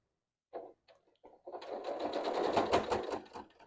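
A sewing machine stitches around the corner of a fabric bag, starting with a few short bursts, then running in one steady whirring stretch, close and fairly quiet, with no talk.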